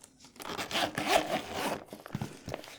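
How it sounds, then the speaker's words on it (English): Zipper being pulled closed on a fountain pen case holding a Leonardo Momento Zero Grande pen, a close, continuous rasping zip with a couple of sharp clicks and rustles at the end. "Let's pop that in and zip this up."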